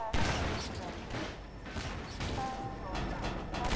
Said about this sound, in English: I didn't know you shot a flare gun. If you listen, it's like a weird sound.